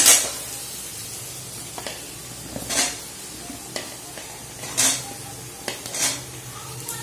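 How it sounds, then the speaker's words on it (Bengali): Mushrooms tipped into a pan of softened capsicum and onion, with scattered scraping and clinking of a spoon against the pan in irregular bursts over a low sizzle, close and moderately loud. "এবার আমি দিয়ে দেবো এর মধ্যে মাশরুম"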